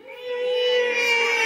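A single drawn-out cat meow imitated by a storyteller's voice at a storytelling festival in Quebec, steady and close, rising slightly in brightness toward the end with no other sounds.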